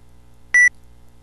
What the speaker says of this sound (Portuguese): isso é um tom de telegrafia